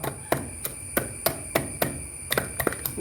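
Sharp pounding thuds strike roughly every quarter second, about a dozen in all, as ginger is crushed with a stone, close and fairly loud.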